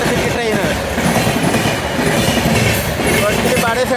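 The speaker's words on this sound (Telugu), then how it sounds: "Vijayawada Lingampalli employee special intercity train" The Vijayawada–Lingampalli employee special intercity train roars past very close and loud, a continuous heavy rumble with rapid clickety-clack of wheels over rail joints and a faint squeal.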